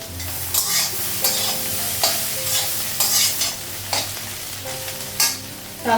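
Potatoes frying in oil in a kadai, stirred with a spatula, giving a steady sizzle broken by repeated scraping strokes about once a second, close and fairly loud, with no talking.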